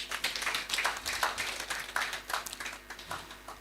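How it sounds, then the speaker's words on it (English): An audience at a members' evening event claps steadily for the council. The rapid, dense clapping carries from a moderate distance in a large room, with no talking over it. "Clap for your council now."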